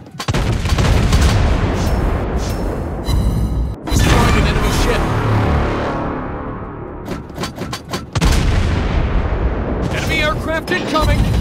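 Anti-aircraft guns firing aboard a Chilean Tier 6 cruiser, the Almirante Cochrane, in the naval game World of Warships Blitz. The rapid, loud booming bursts come close and dense, with brief pauses, while voices call out over them.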